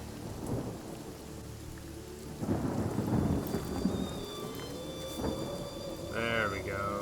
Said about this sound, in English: A little more concentrated rain to put out that fire.